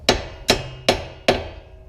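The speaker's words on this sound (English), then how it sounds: "Then you just gotta get a hammer," Four evenly spaced metallic hammer blows strike a tie rod end on a Mazda Protege during engine removal, each a sharp ringing hit that decays quickly, close and loud, with no talk.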